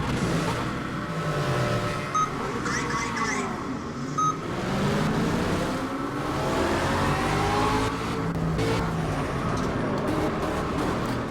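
Aston Martin V8 Vantage GTE race car in Project Cars, heard from the cockpit in a race against opponents, its V8 engine revving up and down through repeated rising and falling sweeps, loud and close, with shifts between gears.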